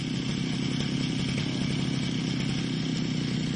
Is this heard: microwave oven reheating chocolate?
no